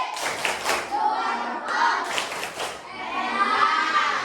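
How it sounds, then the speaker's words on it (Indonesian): A group of children clapping their hands in a classroom activity, several bursts of rhythmic clapping close by with children's voices mixed in. "tepuk tangan"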